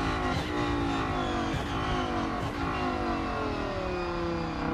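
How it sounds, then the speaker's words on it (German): An Audi race car lapping Monza in the Rennsport racing game, its engine droning loud and steady throughout with repeated rising revs as it accelerates through the gears. "drehen jetzt mal eine Runde auf Monza im Audi 8"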